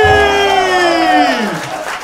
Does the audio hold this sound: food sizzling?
no